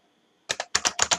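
Someone types a command on a computer keyboard, producing a quick run of about seven crisp, close key clacks after a short silence.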